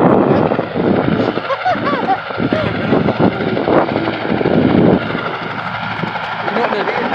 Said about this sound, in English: Here comes that helicopter.